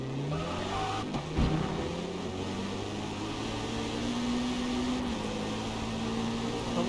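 A race car in the Forza Motorsport video game braking, its engine droning steadily with a dropping pitch and a brief thump as speed falls, loud and continuous without any talking.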